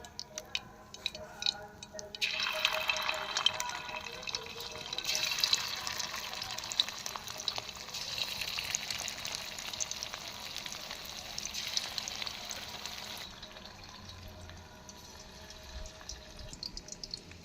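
Chicken pakoras dropped one by one into hot oil in a wok, a steady close sizzle swelling after the first seconds with small ticks and pops, easing off near the end.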